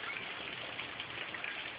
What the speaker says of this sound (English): Just a little rain.